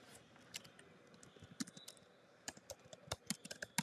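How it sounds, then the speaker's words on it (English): Typing on a computer keyboard, a close series of light, irregular key clicks and taps, quiet and unaccompanied by speech. "And I'm gonna keep typing his age in."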